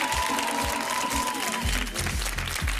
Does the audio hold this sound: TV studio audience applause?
yes